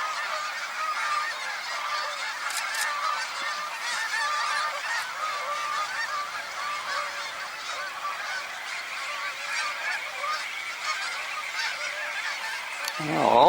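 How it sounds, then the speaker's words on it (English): A large flock of geese honks and calls continuously in a field near campsites, a dense, steady chorus of overlapping calls from a distance. "all the birds are in this one field"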